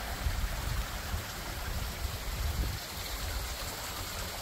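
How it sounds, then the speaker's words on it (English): Storm water rushes down through a cavern on a homestead after a storm, a steady, dense roar of flowing water with low rumble that holds evenly throughout, with no voices. "that water is rushing from up there down through this cavern."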